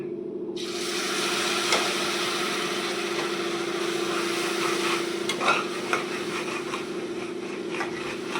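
Sugar syrup poured in a thin steady stream into a pan of wheat halwa, giving a continuous soft sizzling, stirring hiss with a few scraping clicks, close and moderately quiet with no voices.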